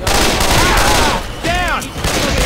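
Gunfire in the Left 4 Dead 2 video game: a dense, loud fusillade of rapid shots fills the whole stretch, with a brief dip partway through and brief tonal ricochet-like sweeps among the bursts.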